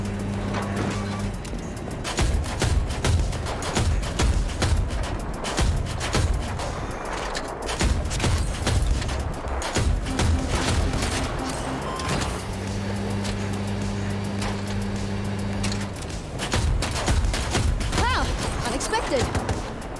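Enemy gunfire in Battlefield 2042 aimed at an EBAA Wildcat vehicle crackles in rapid bursts over a constant engine drone and alarm-like tones. Talk is heard now and then.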